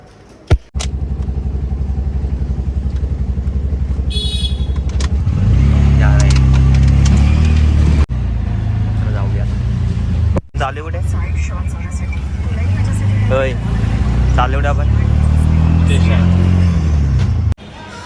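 Auto rickshaw engine running steadily throughout the ride, a loud, continuous mid-pitched drone that rises in a few revving surges, with people talking over it.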